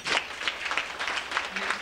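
Brief, strong burst of clapping from a banquet audience, hands striking in a dense, slightly uneven rhythm, close and continuous throughout.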